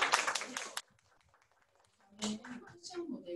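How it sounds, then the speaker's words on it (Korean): A short burst of applause breaks out in a small indoor audience at a career talk concert, lasting under a second before a quiet pause, then more scattered clapping mixed with voices. "박수."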